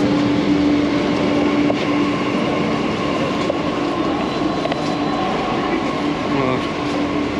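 A Delhi metro train runs at Dwarka Mor, with a steady loud rumble of wheels on rails and a sustained hum throughout, close by with no pauses.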